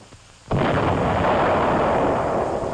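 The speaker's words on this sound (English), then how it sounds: "Second salvo, 200 yards short." Naval gun salvo fires with a single sudden heavy boom that rolls on into a long loud rumbling decay, on an older recording.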